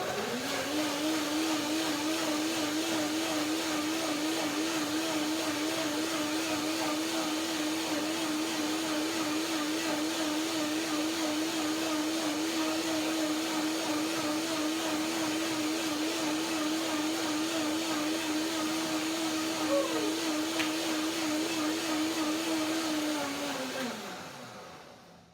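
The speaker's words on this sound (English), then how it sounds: "So now blender dance for my tangerine persimmon cream." A kitchen blender runs steadily for about 24 seconds, whirring through a tangerine persimmon cream. The motor holds a loud, even pitch the whole time, then spins down at the end, with no voices over it.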